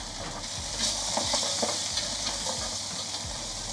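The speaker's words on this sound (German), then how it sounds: "die Knochen braten wir jetzt an für den Sauerbraten" Bones browning in a hot pan for a sauerbraten sauce, a steady close sizzle and hiss with occasional stirring scrapes throughout, no talking.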